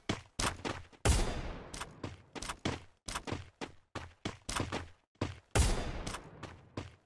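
Rapid gunfire from the video game Free Fire rings out in repeated bursts, shot after shot in quick clusters, loud and close, with no talking.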